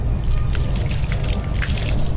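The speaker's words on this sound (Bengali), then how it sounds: "আপুর পা গুলা ধুয়ে দাও তো, ধুয়ে দাও।" Water pours and trickles steadily as someone's feet are washed, a continuous close splashing flow with low rumble beneath.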